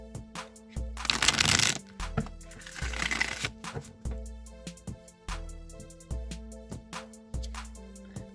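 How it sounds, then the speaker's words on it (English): A Rider-Waite tarot deck being shuffled by hand, with two longer riffling bursts followed by a series of soft taps and card slaps, close and fairly quiet. "I'm going to shuffle the Rider-Waite deck now 3 times"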